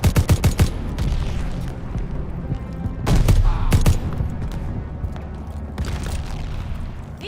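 Machine gun fire in the World War II shooter Call of Duty: Vanguard, with sharp rapid bursts at the start and again around three seconds, plus scattered shots and rumbling battle noise in between.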